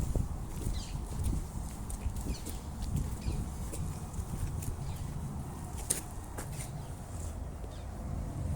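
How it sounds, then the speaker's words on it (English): A horse approaches along a country footpath lined with poplars and willows on farmland, its hooves giving soft irregular clops under steady wind and outdoor background noise, with occasional faint bird calls. "here's our first horse coming up"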